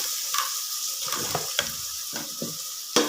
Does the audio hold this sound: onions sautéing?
yes